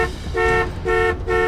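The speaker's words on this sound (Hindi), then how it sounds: "हॉर्न बजा रहा है" A car horn honks three times in a steady rhythm, loud and near, each blast a sustained nasal tone over a low rumbling background.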